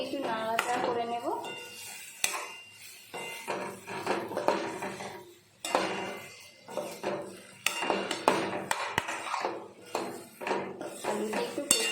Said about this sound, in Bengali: এবার সোয়াবিন আর আলুগুলো দিয়ে দিলাম। আলু দিয়ে একটু নাড়াচাড়া করে নেব।